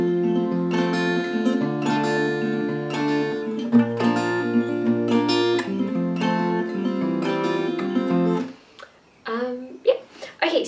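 Acoustic guitar playing the fingerpicked pattern of a song, clear ringing plucked notes in a steady flowing rhythm, stopping near the end before a few brief sounds.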